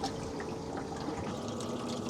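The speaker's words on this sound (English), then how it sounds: "Here we are pumping the barnacle buster through the system, coming out each of the lines." Pump pushing barnacle buster descaling solution through a boat's air-conditioning lines, a steady close watery rush and gurgle of liquid flowing out of the hoses, continuous and even throughout.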